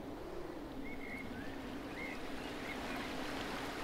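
Waterfall in the video game A Short Hike, a steady broadband rush of falling water held at an even level throughout, with a few faint bird-like chirps above it and no talk.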